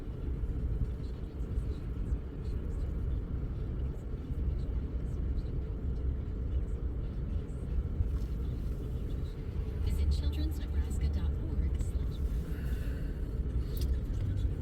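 Union Pacific freight train rolling past, a mixed consist of rotary dump and rapid discharge cars, giving a steady loud low rumble and clatter throughout, with occasional higher squeals and scrapes toward the end.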